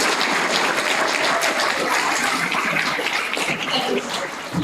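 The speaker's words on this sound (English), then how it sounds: "a big round of applause to these rapporteurs." An audience at a conference closing session in Sopot, Poland applauds, a dense, continuous wash of clapping that holds steady for several seconds and tapers slightly at the end.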